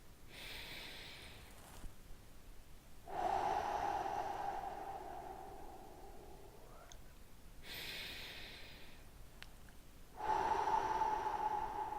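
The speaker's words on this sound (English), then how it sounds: "we're going to start as usual with 3 big deep breaths" A person takes slow, deep breaths, long audible inhales and exhales alternating in an unhurried rhythm, close and fairly quiet, roughly three full cycles with no speech.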